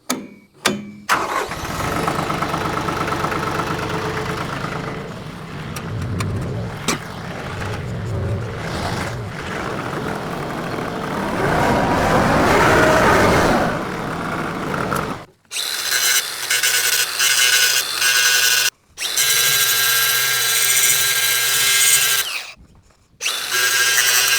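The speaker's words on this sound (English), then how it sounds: "Now when I start grinding through paint and stuff like that, I rather use a regular grinding disc and then follow up with a flap disc." Angle grinder grinding steel on a tractor bucket, a loud continuous whining grind with the pitch shifting as pressure changes, broken by brief stops and restarts in the later part, close with no talk.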